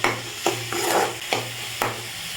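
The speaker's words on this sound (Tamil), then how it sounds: "இந்த மாதிரி எல்லாத்தையும் சேர்த்து நல்லா வதக்கிக்கோங்க. பாருங்கள், தக்காளி வெங்காயம் பச்சை மிளகாய் நல்லா வதங்கிருச்சு." Tomato, onion and green chilli sauté in a pan close up with a continuous sizzle. Several sharp scraping strokes of a spatula land roughly every half second, with no voices.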